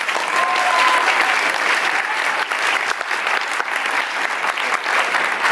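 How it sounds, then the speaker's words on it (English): Festival audience at a Folklorama folk performance night applauds, a dense, steady wash of many hands clapping throughout, loud and close, with no talk over it. "Let's give everyone a big round of applause."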